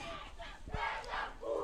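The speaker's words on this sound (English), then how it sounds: "Some cheering on the sidelines." Spectators cheer and call out from the sidelines as players take the field for an under-13 A rugby match between Fish Hoek and Sweet Valley, a steady crowd murmur with one sharp thud midway.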